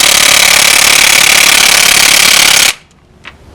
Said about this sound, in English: I will try to use the DeWalt first to see if it can removing the crank bolt right there